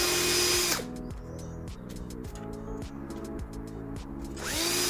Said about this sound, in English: First of all, drill.